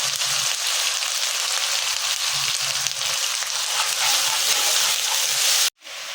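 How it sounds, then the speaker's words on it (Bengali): Turmeric and chili masala with ginger and garlic sizzles and fries in a pan, a continuous bright hiss close up with light stirring scrapes underneath and a short break near the end. "মশলাটা আমি ভালোভাবে কষাই নেব"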